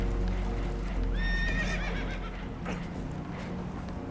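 Spooked horses whinny with a high, wavering neigh over a steady low rumble of water and a boat, with clip-clop and creaking underneath, in the video game Red Dead Redemption II.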